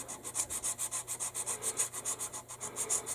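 Fine sandpaper rubs back and forth on a 1/72 Airfix B-17G plastic model kit, a quick, even rhythm of soft rasping strokes, close and quiet with no talk.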